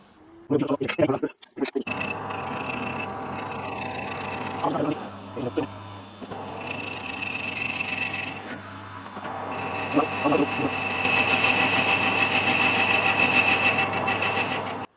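An alloy cylinder head turns in a four-jaw chuck on a metal lathe, with clanks at the start and then a steady, close mechanical whir and a high cutting whine that builds toward the end, with someone talking over it.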